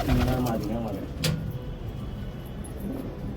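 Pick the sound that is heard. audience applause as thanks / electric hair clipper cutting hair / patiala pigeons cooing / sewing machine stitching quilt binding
patiala pigeons cooing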